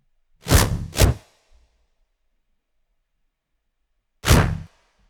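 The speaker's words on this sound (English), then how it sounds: "Paired with the other whooshes. Just kind of gives it a cleaner sound." Layered whooshes built for a lightsaber sound design, as in a Jedi Survivor redesign: two quick sweeping swishes back to back, a pause, then a third, each loud, close and full-bodied, with no voices.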